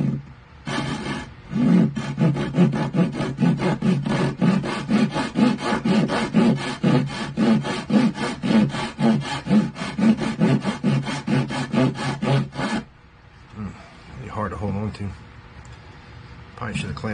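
Hand saw cutting through hardwood while building a Japanese gottan, in steady rapid back-and-forth strokes for about twelve seconds, loud and close, followed by brief talking after the sawing stops.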